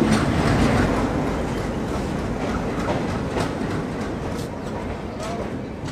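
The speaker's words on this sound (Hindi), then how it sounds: "और ये हमारी ट्रेन प्लेटफॉर्म नंबर 2 पे।" Rajya Rani Express train at a station platform in India, a loud, steady rumble of rolling coaches with faint clattering of wheels, continuous and close, with a voice speaking over it.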